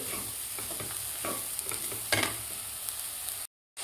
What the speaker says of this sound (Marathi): व्यवस्थित परतायचं आपल्याला गूळ